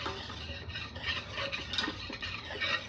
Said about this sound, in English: And give it a quick whisk.